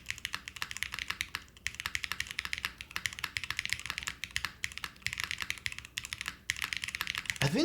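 Continuous typing on a novelty cheese-themed mechanical keyboard with a somewhat soft feel: rapid, close clacky keystrokes in uneven bursts with brief gaps, and no voices.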